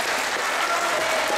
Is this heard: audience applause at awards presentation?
yes